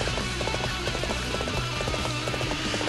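Horse galloping in the video game Dynasty Warriors 7, a rapid, steady clip-clop of hooves pounding in a continuous rhythmic stream, loud and close over dense battlefield background noise.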